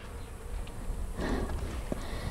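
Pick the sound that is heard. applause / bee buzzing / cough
bee buzzing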